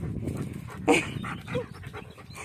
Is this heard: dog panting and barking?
yes